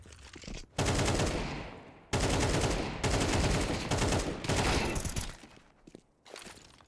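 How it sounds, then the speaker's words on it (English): Pistol gunfire in a Counter-Strike firefight on the Anubis map, loud rapid volleys of shots in several long bursts separated by brief gaps, with no talk. "there's going to be an all-out firefight here"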